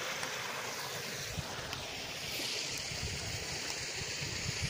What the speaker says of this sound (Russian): Вот, вот такого водопадика остановились.